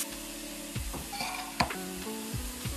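Chicken sizzles steadily in a frying pan with a bright crackle, while a few dull knocks and scrapes of utensils sound close by and no one speaks.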